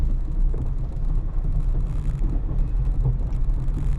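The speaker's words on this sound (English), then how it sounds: "Of course it's a garbage truck." Garbage truck rumbling nearby, a steady low engine drone with wind buffeting over it, continuous and fairly loud for a few seconds without talk.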